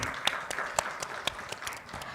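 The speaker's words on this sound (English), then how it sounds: "May we hear a round of applause for Ibu Risnawati, please?" Sparse applause for a speaker at a G20 power utilities climate conference, a handful of distinct claps spaced out at a fairly steady rhythm, quiet and somewhat distant.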